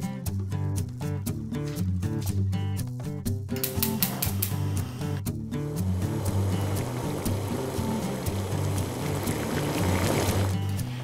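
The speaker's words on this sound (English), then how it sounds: "Now while the water boils" Water heats in a pot for cooking fresh pasta, rising to a steady, rushing bubble of a full boil after some rhythmic clatter at the start.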